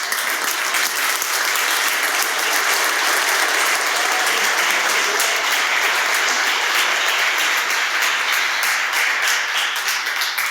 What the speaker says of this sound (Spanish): Si le va a aplaudir, apláudele el resto.